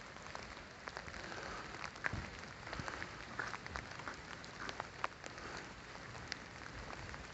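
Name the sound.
rain falling harder on a night walk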